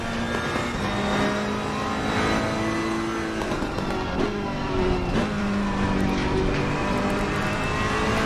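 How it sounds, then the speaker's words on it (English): A Ferrari-like car engine in a racing video game revs hard and crackles as it comes off throttle, loud and continuous with shifting pitch and popping bursts. "The engine sounds like a Ferrari, it really does. Listen to the crackling as it comes off throttle."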